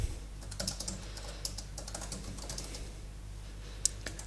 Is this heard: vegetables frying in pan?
no